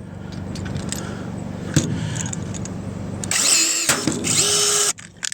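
A Minova KD-02X+ electric rivet tool fires with a short, close motor whir lasting about a second and a half. It follows some quieter handling noise and a sharp click.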